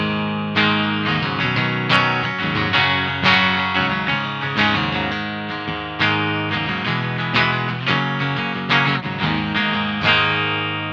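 Distorted electric guitar riffs through the Two Notes Revolt cab simulator, with chugging, rhythmic chords and ringing notes, loud and steady throughout, dry with no room reverb.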